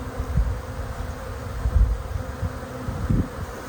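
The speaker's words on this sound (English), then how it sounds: "most of the bees will start trying to go actually inside the box" A steady low buzzing hum of a honey bee swarm fills the clip, with occasional louder swells as insects pass close.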